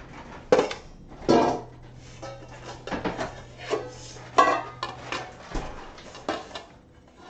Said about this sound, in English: I'm gonna get three bowls here.